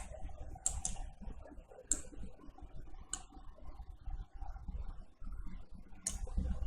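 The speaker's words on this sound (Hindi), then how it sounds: "अपने कीबोर्ड से फिर से Q प्रेस कीजिए" Keys tapped on a computer keyboard while working in Photoshop, a handful of separate, sharp clicks spread over several seconds against a low background hum.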